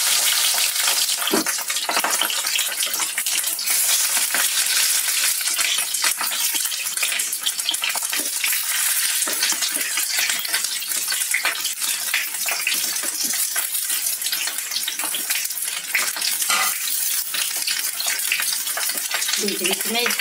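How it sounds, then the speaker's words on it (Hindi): Asafoetida tempering in hot oil for a stuffed capsicum dish, giving a steady, broadband frying sizzle that runs close and continuous throughout with occasional stirring clinks, no voices. "अब हमारा तेल गर्म हो चुका है मैं इसमें हींग तड़काऊंगी"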